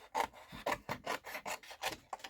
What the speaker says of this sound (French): Je vais couper un morceau